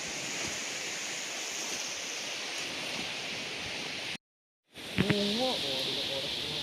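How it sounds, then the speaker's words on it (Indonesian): Steady broadband wash of very small, calm surf rolling onto a beach, continuous and soft, briefly cut out, then resuming with a faint voice-like tone over it. "bisa kita lihat ombak tadi itu sangat kecil dan sangat tenang di sini"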